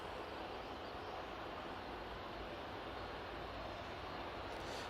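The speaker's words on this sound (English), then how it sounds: "Two Dreamliner coming out on the taxi." A steady, dense roar of Boeing Dreamliner airliners taxiing at Manchester Airport, a broad even engine rumble that holds constant throughout, heard from a distance with no voices.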